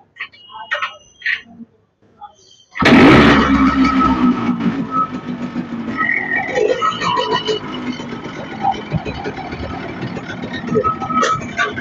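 A modified second-hand motorcycle with an Avenger-style exhaust fitted starts at about three seconds, and its engine then runs loudly and steadily, close by. Faint voices and clatter come before the start, and voices continue under the engine.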